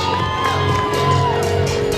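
Spectators cheer and whoop steadily at a half marathon finish line as runners come in, a dense, loud crowd roar with shouts and children's voices rising throughout.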